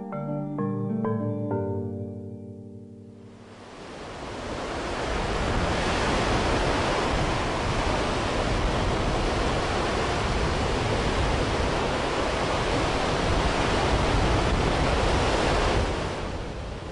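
Ocean waves break against the coast in a broad, continuous roar of surf rising and falling gently, after a brief opening of tonal music that fades out.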